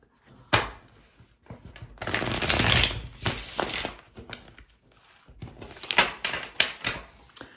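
Tarot cards are riffled and shuffled in short, soft bursts of rapid flapping, close by with brief pauses between shuffles.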